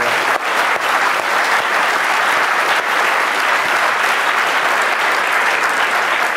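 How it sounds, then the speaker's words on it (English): Loud, sustained applause from an audience at an AI talk, a thick continuous roar of many hands clapping with no pauses. "I think that deserves an applause."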